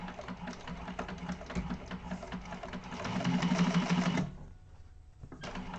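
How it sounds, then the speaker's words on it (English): A sewing machine runs steadily as it top stitches along the first fold line of a fabric organizer bag, a close, continuous mechanical whir that swells briefly louder before stopping and then resuming. "So we're top stitching that first fold line"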